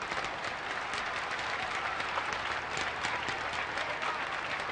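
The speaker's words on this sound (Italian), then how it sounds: "soprattutto un applauso di ammirazione per il sacrificio estremo di queste cinque" A large crowd claps steadily at the Palermo state funeral for Giovanni Falcone and his escort, sustained dense applause from outdoors, moderately distant, with faint voices mixed in.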